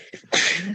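A single sharp, loud sneeze bursts out after a short quiet intake of breath during an interview, close and clear.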